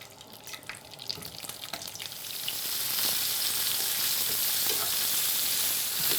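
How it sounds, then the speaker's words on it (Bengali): Onions and tomatoes frying in a mix of butter and oil, a crackling sizzle that swells after a couple of seconds into a loud, steady hiss like rain, close up with light stirring and no talk. "পেঁয়াজ ভাজার যে আওয়াজটা মনে হয় বৃষ্টি হচ্ছে"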